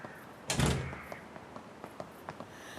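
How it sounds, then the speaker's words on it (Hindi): A door shuts with a solid thud inside a home, a single loud impact followed by a few faint knocks and room noise. "दरवाजा बंद करो।"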